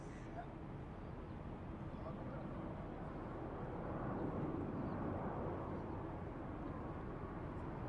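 A Jetstar airliner takes off at Sydney Airport, its engine roar a broad, steady rumble that swells slightly midway and holds on, heard from a distance.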